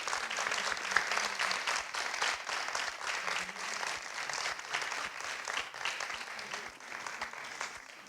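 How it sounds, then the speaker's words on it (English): Audience applause after a coaching talk, steady clapping from a fairly distant crowd, moderate and continuous for the whole stretch with no voices over it. "Another round of applause"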